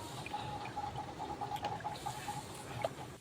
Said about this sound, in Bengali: মাছগুলোকে ভালো করে ধুয়ে নিচ্ছি।